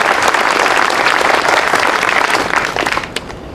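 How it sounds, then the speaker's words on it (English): Crowd applause outdoors at a Flag Day celebration in Batavia, honoring an American Revolution color guard; a dense, loud round of clapping that swells, then thins out into a few scattered claps near the end. "Can we get another round of applause for those?"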